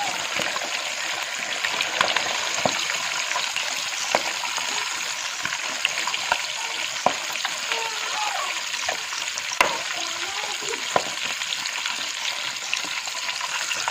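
Fish pieces fry in mustard oil in a pan, a steady close hiss and crackle with scattered sharp pops and clicks running throughout, with no voice.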